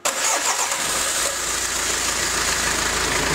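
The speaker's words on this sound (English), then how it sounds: "the engine fired up" A car engine cranks and fires at once, then settles into a steady, even idle that continues close and loud.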